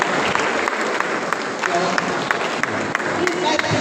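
Audience applause at a postgraduate nursing research seminar, a steady dense wash of many hands clapping that holds evenly throughout, with voices faintly mixed in.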